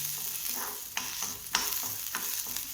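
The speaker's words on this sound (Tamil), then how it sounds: "இதை புளி கொஞ்சம் நல்லா வதங்கணும்." Tamarind and garlic chutney frying in a pan, a steady close sizzle broken by several scraping stirs of a spoon at irregular intervals, with no voices.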